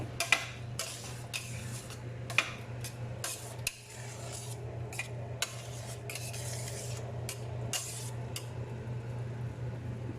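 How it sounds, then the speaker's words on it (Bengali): Ilish pulao, rice with hilsa fish, is stirred in a pot: a spoon scrapes and rubs steadily against the metal with light clinks, close and quiet over a low steady hum, with no talking. "এখন আমি এটাকে একটু ভালো মতো নেড়ে"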